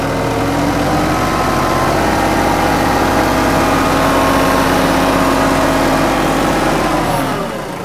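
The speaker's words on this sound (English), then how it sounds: "Now this backhoe isn't doing the best job ripping through some of these roots" A 25HP TYM 2515H tractor with a small BH150 backhoe strains against tree roots during stump removal, its diesel engine droning loud and steady under load for several seconds before easing off at the end.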